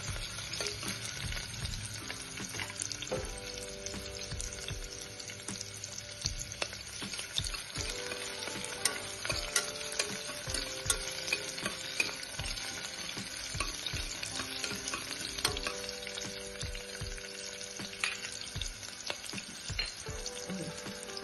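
Chopped onion sautés in a pan for vatana bhat, a steady close sizzle of frying with repeated stirring scrapes and soft utensil taps running continuously, with no voices.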